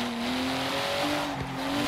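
Classic Volvo P1800E barn find in Forza Horizon 3, its engine droning steadily with a faint tire squeal, sustained and fairly loud throughout.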